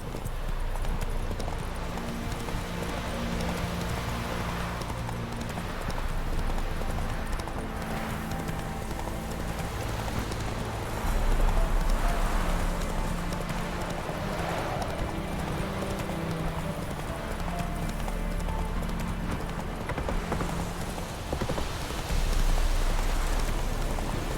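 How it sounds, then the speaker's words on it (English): Hooves of a horse in The Witcher 3 video game clip-clop in a steady rhythm over a rainy ambience, with an occasional whinny and no speech. "Not so fast, Roach. That's it, Roach."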